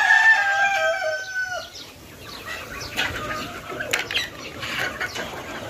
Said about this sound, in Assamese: এইবিলাক হল সৰু মুৰ্গী